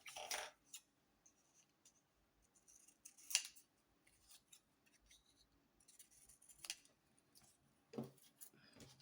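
Almanac pages torn by hand, giving a few sharp ripping bursts spaced across the stretch, close and fairly quiet, with soft paper handling noises between them and no talking.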